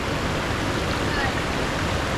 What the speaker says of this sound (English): This is a cool waterfall.